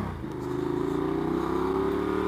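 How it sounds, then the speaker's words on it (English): Loud, close motorcycle exhaust running steadily at a fairly constant pitch, a rough continuous drone heard up close with no talking. "my exhaust is loud in your mic"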